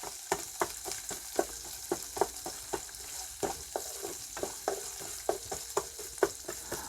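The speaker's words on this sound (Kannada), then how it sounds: "ಈರುಳ್ಳಿ ಒಂಚೂರು ನೀಟಾಗಿ ಬೇಯೋ ತನಕ ಅಲ್ಲಾಡಬೇಕಾಯ್ತಾ" Onions fry in a pan under repeated stirring, a soft continuous sizzle broken by regular spoon scrapes and clacks roughly every half second, close and fairly quiet, with no voices.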